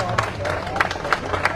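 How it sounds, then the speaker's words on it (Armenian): A crowd claps at a political rally, a brief spatter of applause heard faintly and at a distance under someone speaking loudly through a PA. "Ողջունում է բոլորիդ բուռն ծափերով։"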